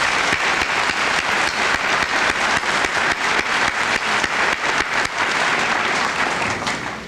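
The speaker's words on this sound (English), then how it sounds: "I'd like to give them a nice round of applause." An audience applauds loudly and continuously, many hands clapping in a dense, sustained wash that tapers slightly at the end.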